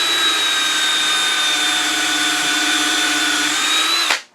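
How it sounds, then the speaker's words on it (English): A cordless power drill in drill mode whirs steadily as it bores a 3/16 peg hole into a wooden turned gnome ornament, a loud continuous high whine that cuts off abruptly at the end. "Put this on drill instead of screwdriver mode."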